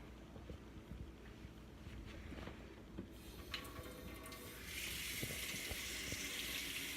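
Running water soaking the stained front of a white shirt, a faint wash of noise with a few handling bumps that swells into a steadier, louder hiss of flowing water near the end.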